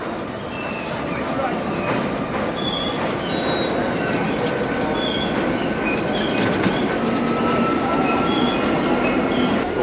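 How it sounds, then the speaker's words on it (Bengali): A train passes nearby on the way to Khirai's flower fields, its steady wheel rumble and rhythmic clatter running continuously with faint squeals, while a voice talks over it. "আর দেখুন কি সুন্দর ট্রেন যাচ্ছে এখান দিয়ে।"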